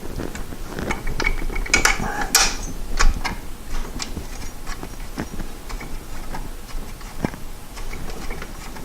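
Wrench working a bolt on an alternator in a VW Cabriolet engine bay: a close series of irregular ratcheting clicks and metallic ticks, fairly loud, with small clanks of parts and no talking.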